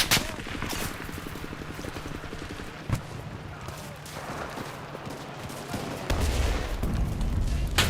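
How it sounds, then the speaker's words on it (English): Gunfire in the World War II shooter game Enlisted, with repeated bursts and single shots popping at mid distance over a steady low rumble, a louder crack near the three-second mark, and a voice talking over the fighting. "Somebody's shooting at me."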